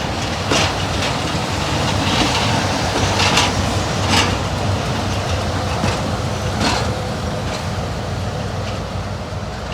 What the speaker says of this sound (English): it was time to watch Class 17 Clayton D8568 turn around here at Bewdley